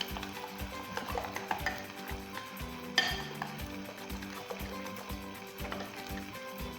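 Ham and eggs are stirred and mixed in a pan with a rhythmic series of scraping, tapping utensil strokes over a soft sizzle, including one sharper knock.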